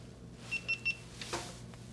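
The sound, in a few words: GoPro camera beeping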